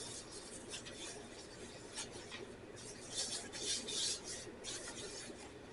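Hands rub a packet of dry seasoning into raw pork steaks, making a close, quiet, continuous rasping and scuffing with brief louder swipes, no talk.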